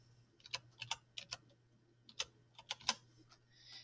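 Username and password being typed on a computer keyboard: a dozen or so quiet, irregular keystroke clicks over a steady low hum, with no voices.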